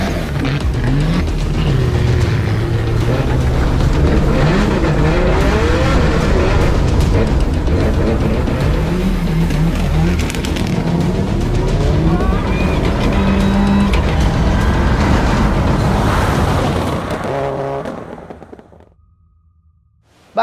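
Rally car engine on a stage at Tanjung Lesung held at full throttle, a loud, close, continuous roar with rising and falling revs through shifts, cutting off abruptly near the end.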